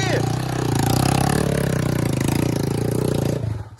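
A Honda CG motorcycle engine labours while climbing a dirt trail, a loud, rough mid-pitched drone held nearly four seconds before dropping off at the end.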